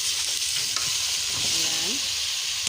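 Half-ripe jackfruit frying in a pan sizzles with a constant bright hiss while a utensil stirs it, a faint voice briefly audible beneath the frying.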